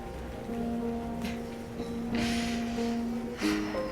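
Steady rain falls throughout, a soft hiss with a few brief louder bursts, while a low sustained musical tone hums underneath in the video game South of the Circle.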